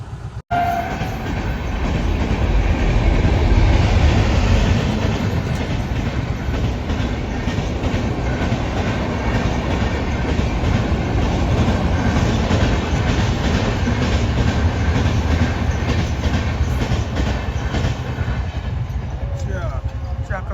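A train rumbles past close by, its wheels clattering rhythmically over the rails in a loud, continuous roar that slowly fades toward the end.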